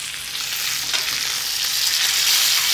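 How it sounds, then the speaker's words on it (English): Food sears with a steady, loud sizzle in a hot pan while a Thanksgiving side dish is cooked, the frying hiss continuous and close with no talking. "I'm just gonna sear the other side of this one"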